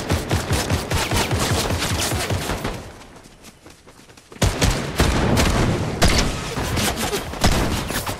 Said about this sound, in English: Oh shit, they're shooting at you.